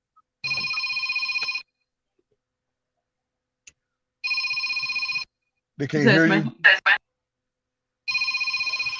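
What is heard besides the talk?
mobile phone ringing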